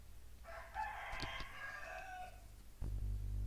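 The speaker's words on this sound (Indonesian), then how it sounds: "ada ayam berkokok" A rooster crows once in the distance, a long drawn-out call of about two seconds, faint behind the quiet hum of a room, with no talking.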